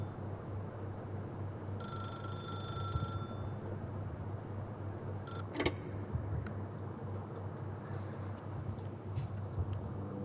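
A telephone rings in the video game The Stanley Parable, a brief tonal bell burst repeating for about a second and a half, then a couple of short chirps later, over a steady low hum.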